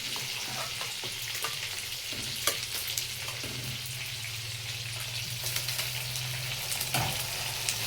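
Food frying in hot oil, a steady sizzling hiss with scattered sharp pops and crackles, close and continuous with no voices.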